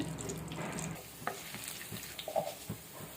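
Dried chillies, crushed garlic and tempering seeds fry in oil for a bottle gourd chutney, a faint soft sizzle with light stirring and clinks.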